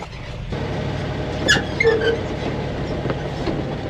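A dump truck gives off a few high-pitched metallic squeals over a constant heavy rumble of machinery, close and fairly loud.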